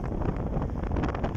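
Steady rushing wind noise buffets the microphone while riding a motorbike, a continuous broadband roar with no talk.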